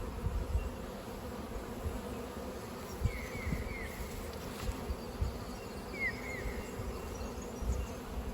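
Honey bees buzz around an open beehive during a hive inspection, a steady, dense drone with individual bees flying close past now and then, low thumps and handling noises underneath.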